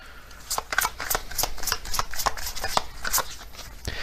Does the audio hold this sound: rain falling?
no